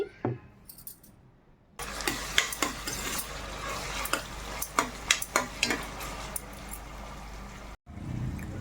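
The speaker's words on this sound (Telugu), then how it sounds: "అల్లం వెల్లుల్లి పేస్ట్ కొంచెం వేగిన తర్వాత" Ginger garlic paste hits a hot pan and breaks into a loud, crackling sizzle after a quiet start, with repeated metallic scrapes and clinks of a spoon stirring, then a brief cut at the end.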